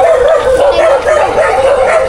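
A dog at a Filipino public market yips and whimpers in a rapid, repeated, high-pitched run, loud and close for a couple of seconds with no talk over it.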